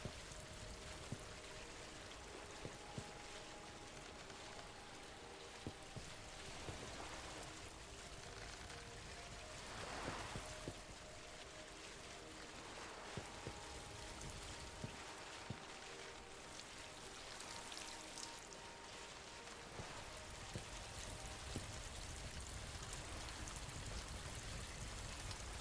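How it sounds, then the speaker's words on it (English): Rain falling in the video game Collector's Cove, a soft, even hiss of steady rainfall with scattered faint drips, continuous and quiet throughout with no voices. "Well, it's raining."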